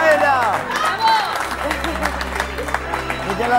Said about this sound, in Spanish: ¡Fuerte aplauso en pie!